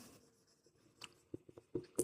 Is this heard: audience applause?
no